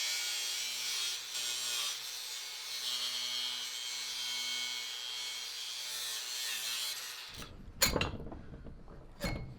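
A rusted metal panel with a large rust hole is cut out with a saw, a steady rasping cut running for several seconds before stopping, followed by a few sharp metallic clinks.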